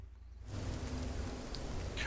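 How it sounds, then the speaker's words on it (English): Rain falls in the Fears to Fathom horror game at a forest lookout, a steady broadband hiss that swells in after a quiet start and continues evenly with faint drips, no voices. "Oh, it's raining."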